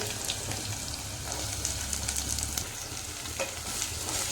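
Bottle gourd and chopped onion frying in a pan, a steady close sizzle with stirring scrapes and no talk.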